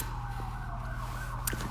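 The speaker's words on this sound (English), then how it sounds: "You have very noisy sirens in the States." An emergency vehicle siren on a street in the States wails past with a sweeping, falling tone over the low rumble of traffic, moderately loud and continuous, with a brief sharp knock near the end.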